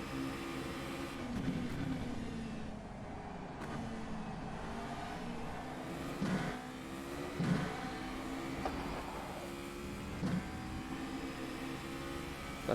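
Formula Renault 3.5 single-seater engine in a racing video game at the Hungary circuit, droning steadily with rising harmonic sweeps as it accelerates and shifts through gears, several brief revving bursts standing out over the continuous engine tone.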